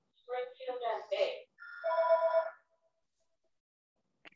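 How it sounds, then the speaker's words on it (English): A telephone rings during a committee meeting, a couple of short electronic ringtone bursts with a melodic warble, heard fairly quietly with silence afterward. "Sorry about my phone. It'll stop in a minute."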